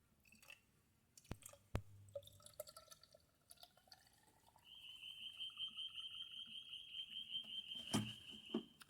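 SCA green coolant poured into a Kawasaki ZX10R motorcycle, a thin liquid trickle with faint drips and clicks, then a steadier gurgling pour that rises as the level fills, quiet and close.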